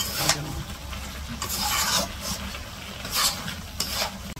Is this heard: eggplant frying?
yes